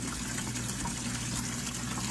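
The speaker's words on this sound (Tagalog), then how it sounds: "Nagkuha na ako ng tubig kaya magdilig ako nga." Fetched water is poured steadily onto garden plants, giving a continuous rushing splash that stays even and fairly close throughout with no pauses.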